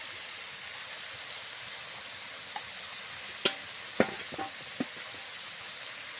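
Spice paste of dried chili powder, turmeric and salt frying in a pan, a soft continuous sizzle with a few sharp pops and stirring scrapes near the end.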